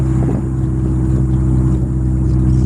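An LS VTEC engine fitted with a GT35 turbo runs steadily during tuning, a loud, deep, even drone held close up with no voices.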